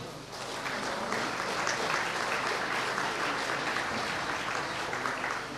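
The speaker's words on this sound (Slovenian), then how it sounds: "mislim, da zasluži en aplavz" Steady audience applause at a 2005 foundation-stone ceremony in a business zone in Komenda, Slovenia: a full crowd clapping evenly and continuously for over five seconds, with no break.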